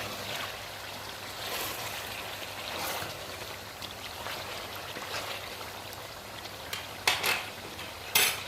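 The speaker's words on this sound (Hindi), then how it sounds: "अब हम इसमें डालेंगे सारे खड़े मसाले और 1 मिनट के लिए इसको हिला लेंगे अच्छी तरह से।" Whole spices get stirred into browned chicken in a pot for biryani, a soft sizzle running throughout with occasional scraping and a few sharp metallic clinks near the end.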